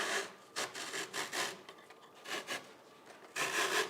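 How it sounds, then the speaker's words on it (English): A simple hacksaw blade rasps back and forth through taxidermy pedestal material in short bursts of close, scratchy strokes with brief pauses. "So I'm going to cut this off quick. Forgive the noise. This is just a simple little hacksaw blade."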